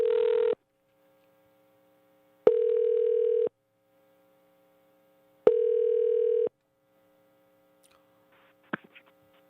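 A dial tone sounds on an outgoing phone call during a radio show: three steady tone bursts separated by silent gaps, clear and alone, followed by a few faint clicks.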